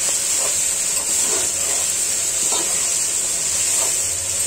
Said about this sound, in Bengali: আলু, মাংস কষিয়ে নিচ্ছি ভালো করে।